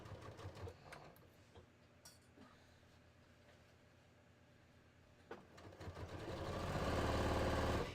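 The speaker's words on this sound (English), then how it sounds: "I'm going to start from the waist edge, and I'm going to sew towards the armhole" Domestic sewing machine stitching a bodice dart, sewn from the waist edge toward the armhole, running in short bursts early on and then building to a louder, steady continuous whir near the end.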